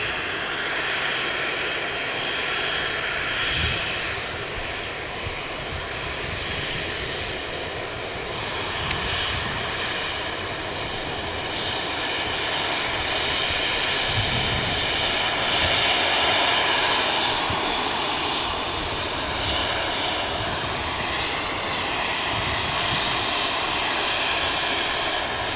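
A TAP Air Portugal airliner departing Manchester Airport for Lisbon roars steadily with broadband jet engine noise throughout, rising slightly toward the middle and holding close and loud with no talk.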